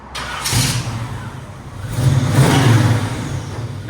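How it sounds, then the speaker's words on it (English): A 1971 Chevy Chevelle 454 big-block V8 with exhaust cutouts and Flowmasters revs up twice, a short rising roar followed by a longer, louder surge that holds and then eases back, with a low rumbling tone underneath. "Now, see, that's the customer revving it."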